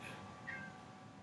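A house cat gives one short, faint meow alone, with only quiet room noise around it.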